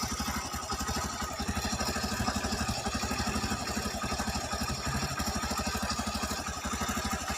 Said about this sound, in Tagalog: Tahimik yung makina.